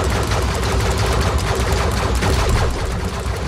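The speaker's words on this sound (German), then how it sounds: "Wieso schießen die denn immer hier in der Gegend rum?" Enemies in the Tower of Fantasy video game fire guns in a dense, rapid, continuous barrage of loud shots with no pauses.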